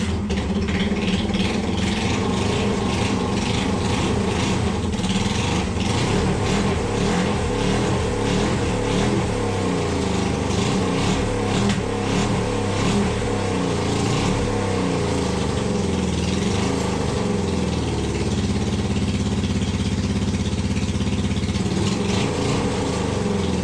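Honda CL 350 Scrambler motorcycle engine kicked into life and running continuously, a loud close throbbing engine with uneven revs throughout, no talking.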